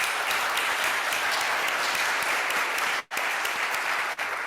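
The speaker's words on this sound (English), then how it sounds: "Let's give him a round of applause." A Rotary Club meeting audience applauds a guest speaker, dense sustained clapping filling the room with a brief break near the end.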